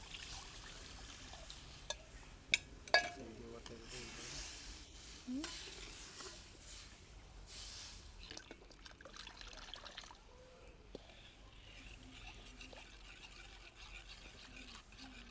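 Faint bubbling and stirring in a pot of kadhi as water is added, with a few sharp clinks near the start and liquid gently simmering throughout.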